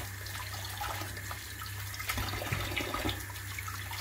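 Tap water runs over oyster mushrooms being rinsed briefly in a kitchen sink, a close, steady splash that shifts slightly as the mushrooms move under the stream.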